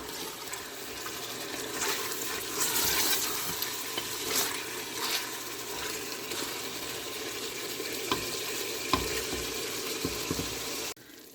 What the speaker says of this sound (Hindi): चिकन को हम उस वक्त तक भूनेंगे जब तक इसका कलर जो है ना वो